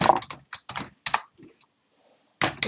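Typing on a computer keyboard to log in, with quick bursts of close key clicks, a short pause, then another burst of keystrokes. No one speaks.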